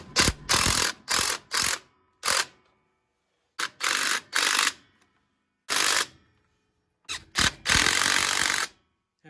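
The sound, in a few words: tightening axle backing plate nuts with a ratchet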